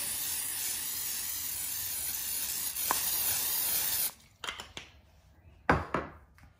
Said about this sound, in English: I'm going to spray the bottom with some olive oil.